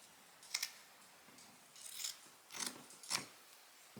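Scissors cutting a T-shirt about half an inch in from a fold line: several crisp snips with soft fabric rustles between them, close and fairly quiet, no talk.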